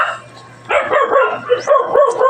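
Several sharp dog barks break out after a short quiet start and keep coming in an uneven run of close, loud yaps and woofs.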